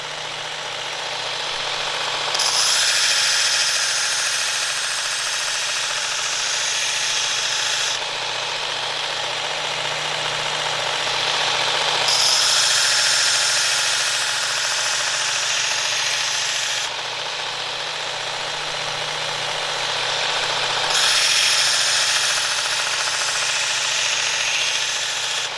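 Work Sharp Ken Onion Edition Elite MK.2 knife sharpener running on its belt, a steady motor whir that swells in several long, even passes as a blade is drawn across the belt, close and loud with no talking.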